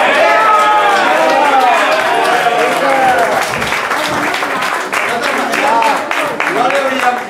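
An audience at a Christmas 2009 gathering claps in a steady, lively round of applause for Mr Damià Trilla, with voices talking and cheering over the clapping throughout.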